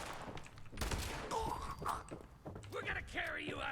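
Bursts of gunfire in Fallout 76 crackle in quick volleys under in-game voices and shouting, with mechanical clatter and a continuous noisy backdrop throughout.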